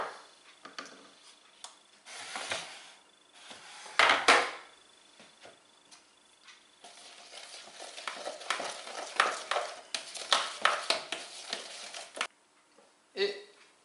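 Flour and water sourdough starter being stirred close by, with irregular scraping and swishing strokes that come in bursts, one louder stroke near the middle and a brief sharp knock at the end.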